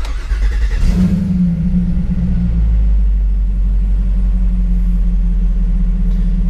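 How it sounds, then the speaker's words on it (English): A Jeep Wrangler JK fitted with an LT4 engine cranks for a moment, then fires and settles into a loud, steady low idle rumble that carries to the end. "So it's going to crank a little bit longer than the average gas motor."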